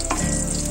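Curry leaves and dried red chilies fry in hot oil, giving a brief, steady, close sizzle with no voices.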